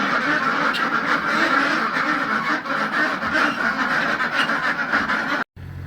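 A dense crowd of ducks quacks nonstop inside a barn, loud and close, many calls overlapping in the enclosed space before the sound cuts off.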